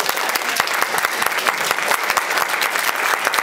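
Steady, dense applause from a crowd fills the whole stretch, loud and continuous with no voices rising above it.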